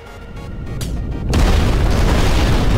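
A missile explodes in the destruction video game Instruments of Destruction, a sudden loud boom that swells into a sustained roaring blast after a short quieter buildup.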